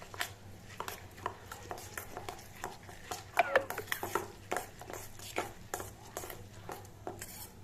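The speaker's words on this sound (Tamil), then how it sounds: "போட்டுங்க இது நல்லா நம்ம வந்து கலக்கிக்கலாங்க" Beaten eggs stirred into rice in a pot for an egg rice dish: a utensil scrapes and clinks against the pot in uneven strokes, moderately loud and close, with a soft background hum.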